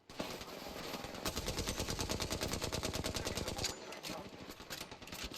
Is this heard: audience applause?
no